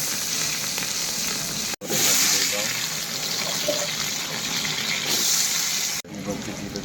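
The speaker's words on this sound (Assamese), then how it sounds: "তেল দিলোঁ গৰম হোৱাৰ কাৰণে পিঁয়াজ জলকীয়া দিলোঁ আগতে পিঁয়াজ জলকীয়া ভাজি কৰি লওঁ" Chopped onion and green chili fry in hot oil in a home kitchen, giving a loud, steady sizzle that runs throughout, with two brief drop-outs.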